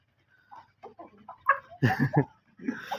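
Aseel chickens, a fighting breed, give short clucks and grunting calls in uneven bursts while being fed green grass, close by and fairly loud.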